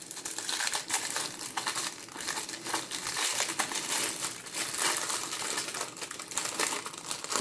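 Cellophane wrapper on a 1943 WW2 emergency ration chocolate bar crinkles up close in a continuous, dense crackle, steady and fairly loud, with no voices.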